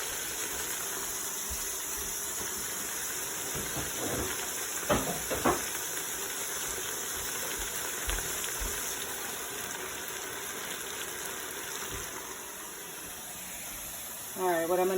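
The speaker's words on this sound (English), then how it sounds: "Turn on the hot water." Hot water runs from a kitchen tap as a steady, even hiss that lasts throughout, broken by a few brief clunks and ending with a short burst of louder rushing.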